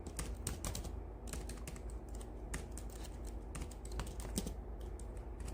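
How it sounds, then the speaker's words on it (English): Fingers type quickly on a computer keyboard, giving a dense, continuous patter of close key clicks with brief pauses. Nobody speaks. "I can't type today."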